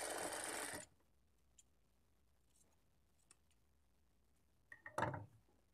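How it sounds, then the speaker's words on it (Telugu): A sewing machine stitches fabric for a butterfly latkan hanging, with a loud, fast burst of needle clatter up front, a quiet pause with small handling ticks, then another brief run. "మార్జిన్‌తో స్టిచ్ చేసుకోవాలి"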